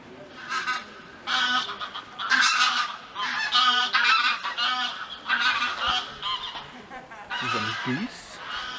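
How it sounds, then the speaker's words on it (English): Several geese honk loudly and repeatedly in a series of harsh, nasal calls at a palace grounds, with no talk over them. "Some geese."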